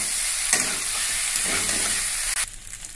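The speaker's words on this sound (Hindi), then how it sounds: "इसके बाद हम डाल दे रहे हैं पास्ता, उबाला हुआ पास्ता। अब इसको हम भून भी दे देंगे।" Boiled pasta stir-fried in a pan, giving a steady close sizzle with a few scraping stirs throughout and a brief break near the end.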